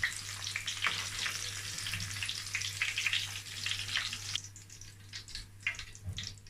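A Naija patty fries in hot oil with a loud, continuous close-up sizzle and crackle that eases slightly partway through.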